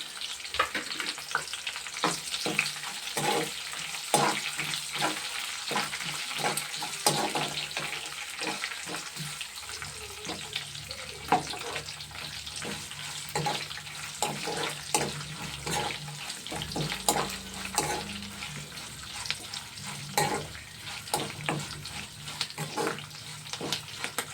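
Tempering spices and garlic frying in hot oil, a long stretch of crackling sizzle punctuated by repeated sharp pops and stirring clatter, steady and close.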